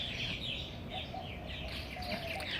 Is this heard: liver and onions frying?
no